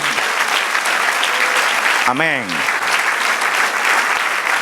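A church congregation claps steadily and loudly during a sermon, a continuous wash of hands, with a voice briefly speaking over it midway.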